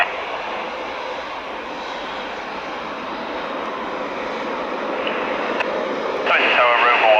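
A Eurofighter Typhoon jet takes off, its engine a steady, broad roar held throughout and swelling slightly toward the end, with radio chatter over it.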